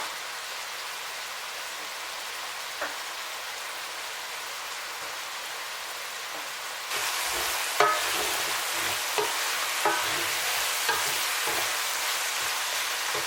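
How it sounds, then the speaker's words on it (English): Tomatoes fry in a pot as part of a Cameroonian beans dish, giving a soft, even sizzle throughout. A few light stirring knocks and scrapes come in the second half, and no one speaks. "Continue to fry till your tomatoes are dry."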